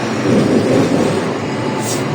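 A Hong Kong seventh-generation tram, car 165, runs from Fenwick Street toward Shau Kei Wan with a steady, loud low rumble of wheels on rails that holds evenly throughout, with no voices.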